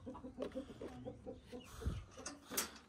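Chickens cluck softly in a coop holding Brahma and bantam cochin hens, with repeated short clucks mixed with a louder squawk and a sharp call.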